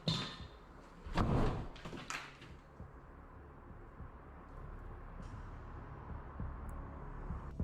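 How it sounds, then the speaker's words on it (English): A door slams shut in a ghost video, a sharp loud thud followed by a second knock, then a low rumbling room ambience with faint scrapes. "a door right next to him slams shut"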